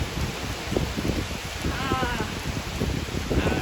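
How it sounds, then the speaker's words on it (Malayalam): Heavy rain falls outdoors in strong wind, a dense, steady patter and hiss that stays loud and close throughout without a break. "നല്ല മഴ പെയ്യുന്നുണ്ട്"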